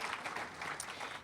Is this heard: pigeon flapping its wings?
no